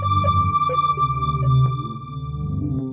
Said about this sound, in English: What you're hearing is the sound of the slime mold existing.